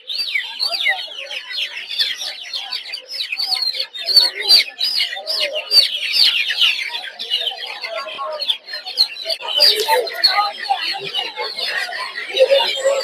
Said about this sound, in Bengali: এই যে দেখতে পাচ্ছেন দেশি মুরগির বাচ্চা এগুলো।